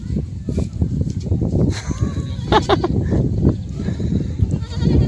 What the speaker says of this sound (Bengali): এই যে ছাগল,